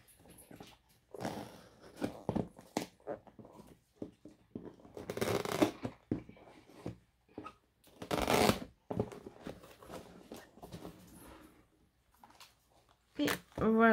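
Strong packing tape is torn and pulled open on a parcel, with bursts of ripping and crinkling, scattered handling clicks and rustles between quieter pauses.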